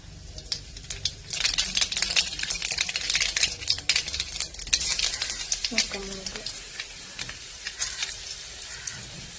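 Mustard seeds crackling and popping in hot coconut oil in a pan for a Kerala-style pork curry, a dense burst of rapid spluttering that gradually thins out, close, with a brief low sound partway through.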